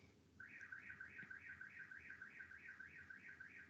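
A car alarm wails in a steady repeating warble that starts abruptly and keeps cycling, heard from a distance, faint against a quiet indoor hum.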